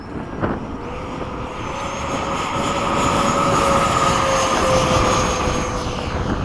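F-15 jet fighters taking off in formation at LFE: a loud, steady roar of jet engines with a thin whine, holding strong and swelling slightly throughout.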